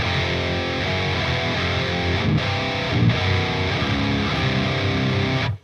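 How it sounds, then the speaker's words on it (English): Heavily distorted electric guitar through a Boss Super Distortion pedal plays thick, sustained low chords and riffs in drop B-flat tuning, loud and continuous, cutting off abruptly at the end. "I wasn't sure how the Super Distortion was going to handle the low B flat"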